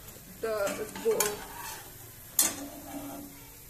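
Cabbage pakoda frying in hot oil, a steady soft sizzle broken by a few sharp scrapes and clinks of a utensil lifting the fritters out, close up with no talking.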